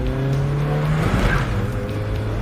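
A car performs a wheel-hopping burnout, giving a loud, steady engine roar with tire noise that holds for a couple of seconds close to the listener.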